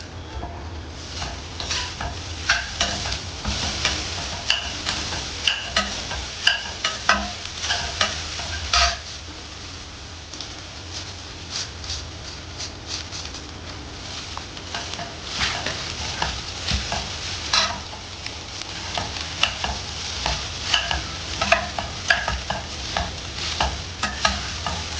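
Amla (gooseberry) rice being stirred in a frying pan, with continuous scraping and stirring over a steady sizzle, the spoon clacking against the pan in frequent close bursts.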